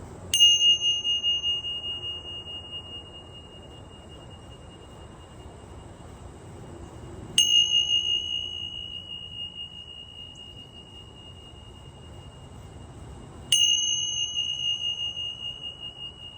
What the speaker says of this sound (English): So we're going to start with our tincture bells.